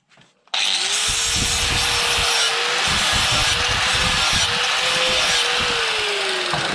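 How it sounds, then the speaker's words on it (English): A bench grinder sharpening a steel mower blade for a Stiga Flip3 starts abruptly and then runs as a loud, steady, harsh whine and rasp of metal on the wheel, close up and without a break. "I hope you can hear me above the noise of this grinder"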